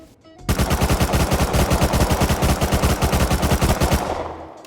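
Sustained automatic MP5 fire in Rust Console Edition, a rapid, evenly spaced burst of loud shots running about three and a half seconds without pause before cutting off and tailing away.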